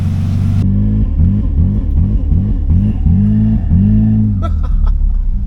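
A 2003 Nissan Pathfinder engine runs rough on a drive, a loud, close, low rumble that surges and sags in an uneven pulsing rhythm, without talking.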